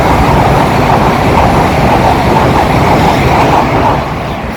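A fast train rushes through Didcot station with a loud, steady roar and rumble of wheels on rails, the noise easing slightly at the end as it passes.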